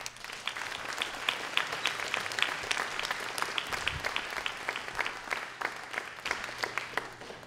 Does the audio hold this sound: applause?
yes